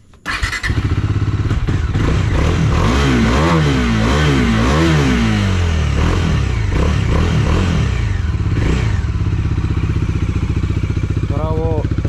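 A Salpa 400 TR 03 motorcycle engine cranks and fires up, then revs up and down several times in close, loud, rising-and-falling bursts before settling into a steady idle.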